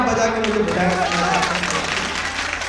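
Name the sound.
audience applause at a poetry recital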